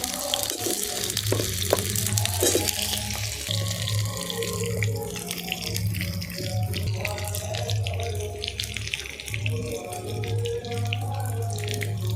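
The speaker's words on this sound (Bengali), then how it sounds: "এই আলুগুলোকে একটু আমি ভালো করে ভেজে নেব" New potatoes fry in oil in a pan for a Bengali mutton curry. A continuous close, rushing sizzle sounds almost like running water, with a low steady hum beneath it and faint scattered clinks.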